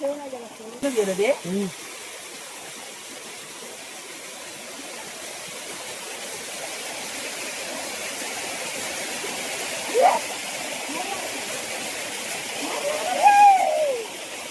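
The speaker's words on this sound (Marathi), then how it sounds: "स्टेप बाय स्टेपनी खालती पाणी पडतंय" A large village waterfall in heavy monsoon rain, water dropping down rock steps, gives a steady soft rushing hiss that runs throughout, while someone speaks briefly at the start and exclaims near the end.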